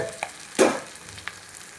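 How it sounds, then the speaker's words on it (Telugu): Okra goes into a hot pan for a tomato curry, giving one sharp frying burst that fades into a low sizzle, with a small clink just before and another soon after. "ఇప్పుడు బెండకాయలు వేసుకుందాం."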